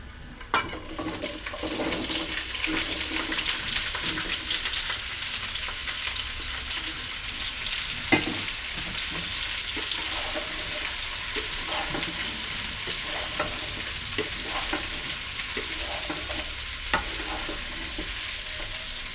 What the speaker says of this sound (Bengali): এখন এর মধ্যে আমি ফুলকপির টুকরোগুলো ঢেলে দিচ্ছি